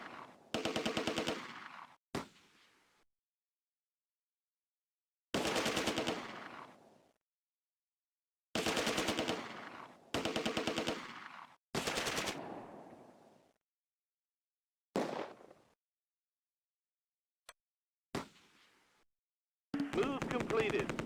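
MG42 machine gun fire in the Close Combat war game, set at Arnhem bridge: several sharp rapid bursts of one to two seconds each, separated by silent gaps, with a couple of single short shots.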